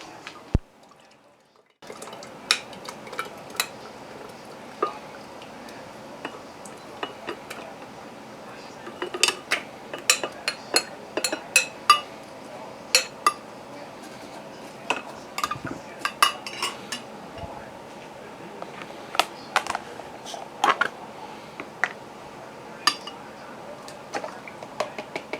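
Dishes are washed out in a kitchen sink after making freeze-dried strawberry mango banana bars. Water drips and runs under scattered clinks of dishes and utensils, close and fairly quiet for about twenty-five seconds.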